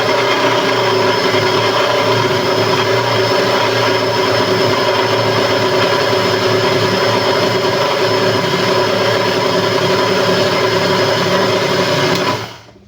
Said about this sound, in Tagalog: Kaya pa naman niya i-blender.